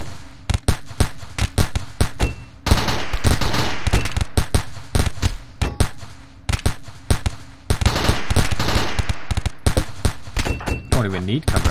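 Rapid bursts of turret gunfire from the RimWorld video game, loud sharp reports in quick irregular volleys running through the whole stretch, with a voice talking over the shooting.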